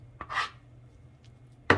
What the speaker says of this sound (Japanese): 混ぜながら叩くっていう感じですね